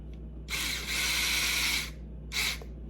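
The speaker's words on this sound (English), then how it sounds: "electric screwdriver." An electric screwdriver drives socket head Allen screws while installing an overdrive in a Traxxas TRX4 RC truck: one long, close whirring run of about a second and a half, then a short second burst.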